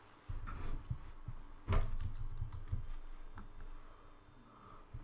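Keystrokes on a computer keyboard while entering text for a Matrix-style animation in After Effects, clustered in short bursts with a few louder taps, moderately close and alone.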